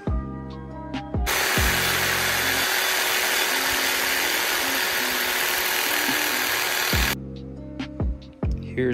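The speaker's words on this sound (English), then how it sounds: "Well, we got the sawzall, and it's time to sneak back out." A sawzall cuts out a metal gusset for a dune buggy, a loud steady buzzing rasp that runs for about six seconds between shorter bursts of clattering handling noise before and after.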